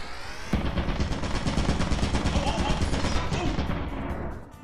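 A security turret in Lethal Company opens up with rapid, sustained automatic fire, a dense stream of sharp bangs running for about four seconds close by before cutting off abruptly.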